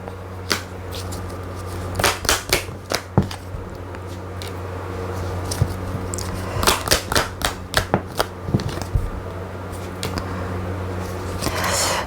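Tarot cards are shuffled for an extra draw, a quiet close series of soft slaps and riffles that cluster in bursts over a steady low room hum, with no one talking.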